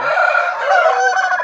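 A rooster of about 28 height crows in a long, loud, drawn-out call, close by, with no voices over it.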